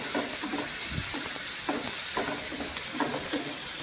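Chilli paneer ingredients with ginger, chilli, garlic and green onion sizzle steadily in a pan while being stirred, with repeated scraping strokes over the constant frying hiss.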